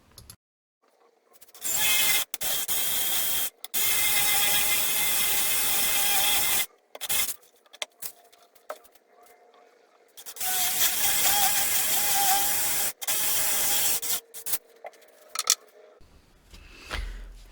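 A 1/2 inch drill bit bores a hinge hole into a homemade cabinet door. The drill whirs loudly in two long runs of several seconds each, broken by brief stops and quiet gaps, with no talking.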